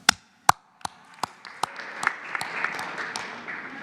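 Applause breaks out at a presidential morning press conference, starting as a few sharp, separate claps and swelling into steady, dense clapping from a room of reporters and staff.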